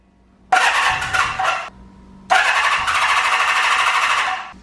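Starter motor cranking an old cafe racer motorcycle engine left sitting for 20 years, two bursts of rapid chugging turnover with a pause between, close and loud in a garage, the engine not catching.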